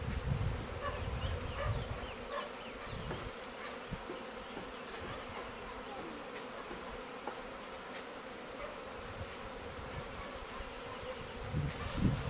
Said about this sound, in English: I got bees landing all over my arm.